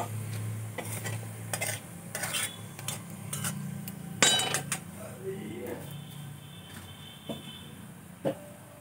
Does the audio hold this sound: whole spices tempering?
yes